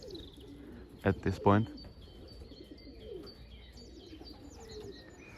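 Racing pigeons back from a 100 km race coo in a few close, deep pulses, while fainter birds chirp and tweet around them; someone speaks briefly at the start.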